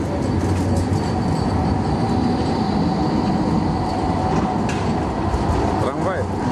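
A tram rumbles past close by on a street in Halle, with a steady, loud rolling noise and a brief squeal of wheels near the end.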